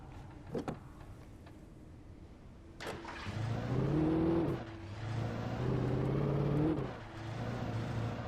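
Car driving in the video game Alan Wake, its engine rising and falling in pitch as it accelerates, steady and close, after a couple of brief knocks near the start.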